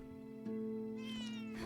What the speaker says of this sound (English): The cat keeps getting stuck right there.